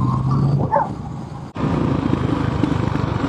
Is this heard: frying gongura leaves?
no